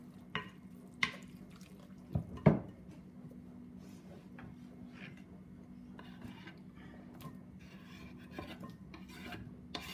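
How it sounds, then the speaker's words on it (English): A utensil stirs an egg mixture in a bowl for a Greek spanakopita filling, giving soft rasping scrapes and a few light taps against the bowl at an unhurried pace, quiet and close. "So this mixture in here with the eggs in, I'll just give this a nice stir"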